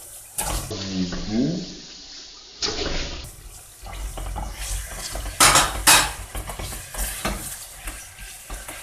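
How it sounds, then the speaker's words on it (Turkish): Minced meat drops onto sautéed onions in a pan, sizzling under clattering utensils and stirring scrapes, with loud bursts of frying and brief speech. "Kavrulan soğanlarımıza kıymamızı ekleyeceğiz."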